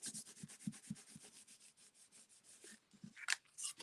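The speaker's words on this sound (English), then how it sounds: "And I'm just going to rub it down there." Distress ink is rubbed onto a card in a series of soft, rhythmic scrubbing strokes close by, fairly quiet, ending with a couple of brighter scraping sounds.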